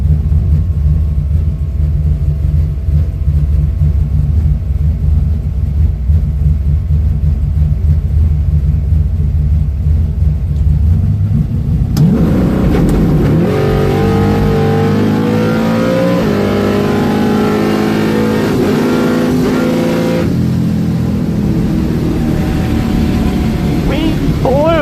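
In-car sound of a drag race car making a bracket racing pass: a steady idle rumble, then a loud, close engine roar that climbs through rising revs and gear changes.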